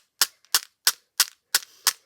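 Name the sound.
Posca paint pen splatting paint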